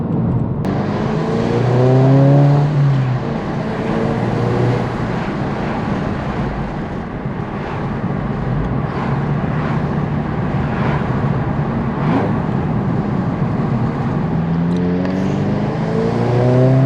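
2023 Subaru WRX with an AWE Touring catback exhaust driving, the engine note climbing through several gear pulls with steady road rumble between shifts, loud and close throughout.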